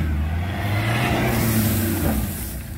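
A 4x4 car engine revs and accelerates during rally training, a loud, steady close engine drone rising slightly in pitch with road rumble underneath.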